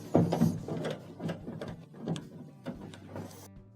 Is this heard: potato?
no